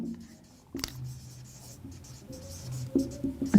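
Marker or chalk moving across a board in short strokes and taps. The scratching is faint and close, with a few louder knocks near the end and no talking.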